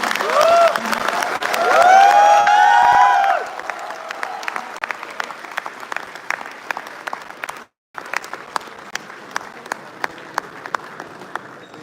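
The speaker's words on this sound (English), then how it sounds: "Let's welcome him on the stage with a huge round of applause" An inauguration audience at IIT Delhi breaks into loud applause with cheering to welcome a speaker on stage, the crowd noise dropping after a few seconds to scattered individual claps that fade out.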